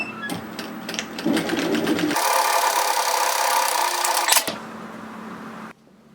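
A sewing machine stitches the curved edge of a fabric face mask with a filter layer, starting with uneven bursts, then running in a steady loud whir for a few seconds before slowing and stopping.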